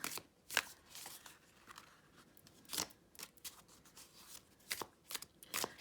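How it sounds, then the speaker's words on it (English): Glossy, slippery tarot cards being overhand shuffled close up, giving quiet bursts of slapping and riffling in an uneven rhythm with brief pauses between passes. "this is the hardest thing about glossy, slippery cards for me is they like to kind of get caught and jump around as I'm doing this overhand shuffle"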